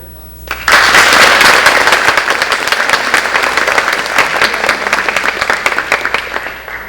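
Applause at a 2024 summer school graduation ceremony for a public school district, bursting in suddenly and then holding as a loud, dense, sustained roar of clapping from a large crowd with a few sharper claps standing out.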